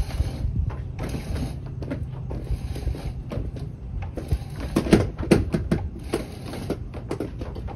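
A homemade crane lifts an iKamper Skycamp Mini 3.0 roof top tent off a car's roof rack, giving repeated mechanical clicks, creaks and ratcheting knocks in an irregular rhythm, close by with no talk.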